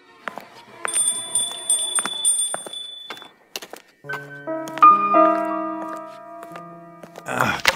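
A door bell rings in the video game Minecraft, bright chiming tones in repeated bursts, followed by lower sustained bell-like notes and scattered clicks of game sounds.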